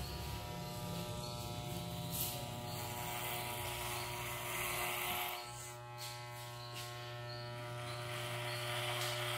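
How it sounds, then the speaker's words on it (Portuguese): Steady electric buzz of a hair clipper fitted with a number 4 guard, floated over the top of a client's head during a fade cut at a barbershop, close and continuous with a brief dip in tone midway. "Agora eu vou trabalhar com a máquina flutuando a parte de cima. Eu vou usar o pente 4,"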